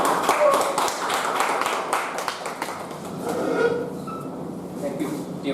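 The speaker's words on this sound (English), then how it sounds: "a huge round of applause" Audience applause at a Toastmasters club meeting before an icebreaker speech: a crisp, busy burst of clapping that thins out over the last couple of seconds.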